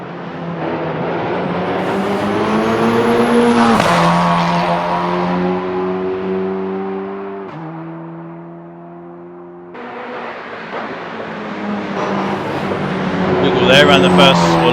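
A loud Radical SR10 XXR race car turbo engine revs up and drops through gear changes, its droning tone climbing and falling, with a thin high turbo whine above it.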